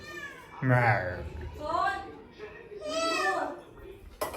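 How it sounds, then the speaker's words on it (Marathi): A cat meows three times in a row, drawn to chicken cooking nearby. The cries are close and drawn out, with a person's voice faintly behind them. "कुठे माझ्या हे मांजरला वास आलाय आज पण हे बघ कसे डोळे दिसत तिचे आहेत"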